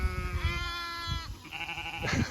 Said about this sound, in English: Look at those sheep.